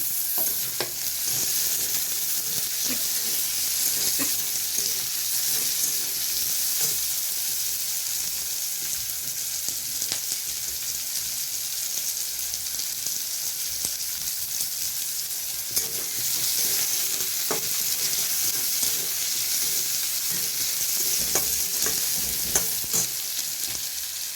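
Bottle gourd and potato fry in a pan with a steady, soft sizzle and hiss, broken now and then by faint scrapes and clicks of stirring.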